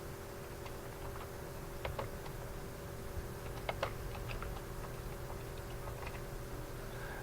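An address being typed on a computer keyboard: sparse, soft key taps scattered over a steady background hum, faint and unhurried, with no talk.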